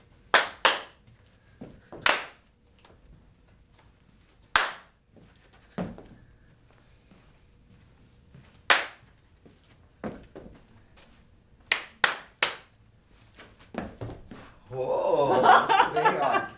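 Sharp single hand claps in short rhythmic groups during a primary-school physical education lesson, spaced with pauses, fairly close, with quiet voices and a burst of noisy movement near the end.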